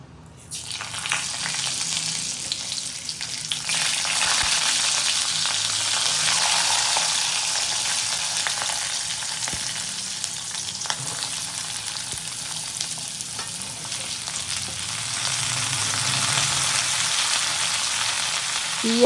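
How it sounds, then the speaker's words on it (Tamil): Whole spices frying in hot oil for chicken pepper chops, a steady close sizzle throughout with occasional stirring scrapes and no talk. "நல்லா வறுக்கணும்."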